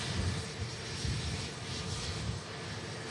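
A Sun Express jet airliner taxis at Manchester Airport, a low, steady engine rumble and roar at a distance with no voices.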